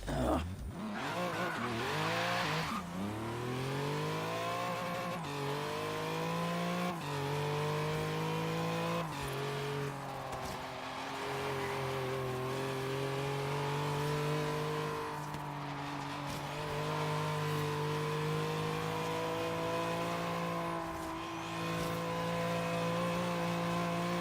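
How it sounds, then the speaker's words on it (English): A Bowler EXR car engine in Forza Horizon 3 revs and accelerates steadily, with layered rising harmonic tones and a faint high turbocharger whistle riding over the loud, continuous motor drone. "if you listen closely, you could hear the whistle of the turbocharger and the engine"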